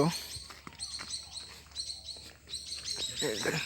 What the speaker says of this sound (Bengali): ওই যে একটা মাছ রাঙা পাখি গেল